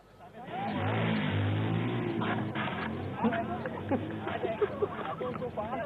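Motorbikes ridden for dangerous stunts on an airport runway, engines revving loudly and steadily throughout with sharper bursts toward the end, under a background of crowd voices and chatter.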